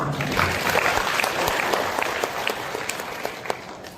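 Sustained applause from a crowd, dense clapping that holds steady and slowly fades a little over several seconds.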